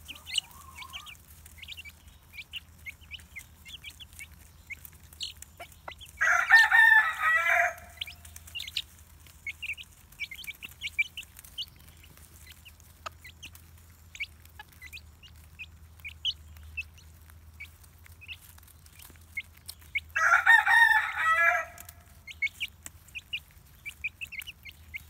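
Chickens in a chicken coop give two short bursts of loud clucking and squawking about fourteen seconds apart, with faint chick peeps and chirps scattered over a low, steady hum between them.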